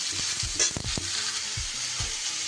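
Vegetables and neem leaves stirred in a hot pan, with a steady broadband sizzle of frying oil and soft scraping stirs at intervals, close and continuous.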